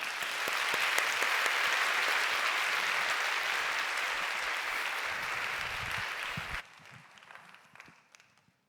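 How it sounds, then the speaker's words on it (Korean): Young adults' church congregation applauds to welcome a new pastor at a Sunday worship service, a full steady ovation lasting several seconds before cutting off abruptly, leaving a few scattered claps and room noise. "우리 박수로 모시도록 하겠습니다"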